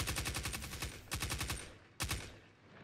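Rapid bursts of automatic gunfire from the Destiny 2 video game, three volleys of quick evenly spaced shots with a short pause between each, fairly loud and with no voices.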